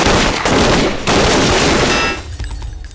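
A loud gunfire sound effect fills the clip with a dense, sustained rattle of rapid shots that fades near the end.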